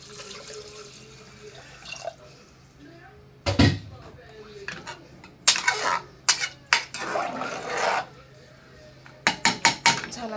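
Water poured into a pot of khichdi rice on a gas stove, with splashes and clattering of metal pots and utensils in bursts, and someone speaking between the sounds.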